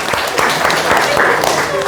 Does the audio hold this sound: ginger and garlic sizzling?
no